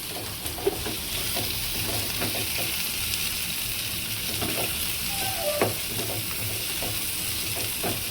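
Chutney ingredients for millet dosa, with garlic among them, sauté in a pan, a steady close sizzle and hiss with soft intermittent stirring scrapes and small ticks, no one speaking.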